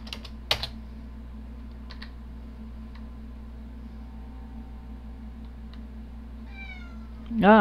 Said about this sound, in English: Now the cat wants back out.